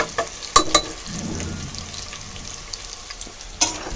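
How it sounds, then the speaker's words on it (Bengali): Onions sizzle and fry in a pot for duck khichuri, a soft steady crackle with a few sharp clinks of a spoon against the pot and a brief stirring scrape. "আর পেঁয়াজটা হালকা ভাজা হয়ে গেছে"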